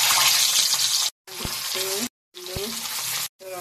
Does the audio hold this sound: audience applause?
no